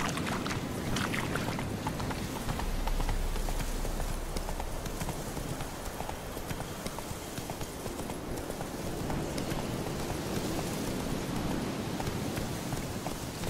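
Horse hooves clip-clopping in a steady trotting rhythm in The Witcher 3: Wild Hunt, continuous and fairly close, set against a low ambient wash with no voices.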